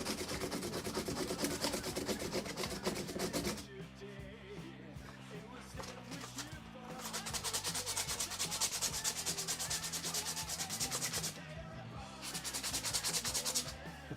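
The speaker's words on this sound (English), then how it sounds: "I hate sanding." Cured resin being sanded by hand, a steady scratchy rubbing in rhythmic bursts with short pauses between strokes, close and fairly quiet.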